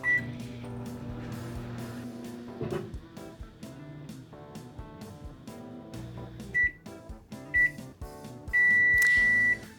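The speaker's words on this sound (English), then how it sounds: "I'm going to microwave this bar of soap and get it bigger that way." A microwave oven heating a bar of soap hums with a low steady drone under background music, then gives a few short beeps and one long high beep at the end.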